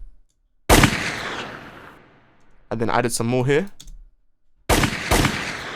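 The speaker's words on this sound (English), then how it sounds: "So these gunshot effects here, I added some gunshot effects, I think here." Gunshot sound effects in a UK drill vocal mix: two loud bursts of rapid gunfire cut off abruptly, separated by a stretch of someone talking.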